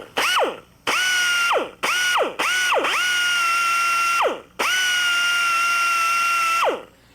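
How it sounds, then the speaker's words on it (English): A die grinder dishing out holes in a boat transom during a rotten-transom repair: several loud bursts of high whine, each spinning up and winding down, the last one long, with short gaps between and no talk. "we're going to take a die grinder and we're going to dish these things out"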